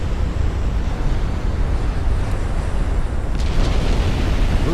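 A 7-inch warship turret blows off the rear in a naval battle in Ultimate Admiral: Dreadnoughts, heard as a dense, loud rumble of fire and explosion that stays heavy throughout, with a sharper burst near the end.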